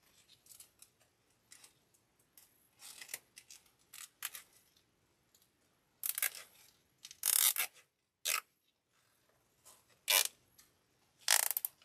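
Zip tie ratcheting and being pulled tight on an EZ Bow Maker while making a half bow, heard as bursts of crisp rasping clicks and scraping, several close handling noises separated by pauses, with no talking.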